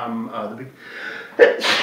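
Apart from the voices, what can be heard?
sneeze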